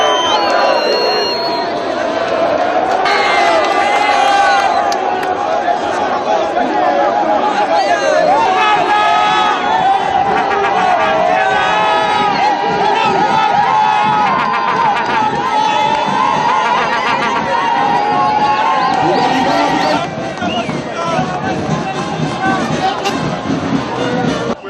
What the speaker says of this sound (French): Richard Mouyej et ses deux adjoints sont noyés dans cette foule immense venue pour les ovationner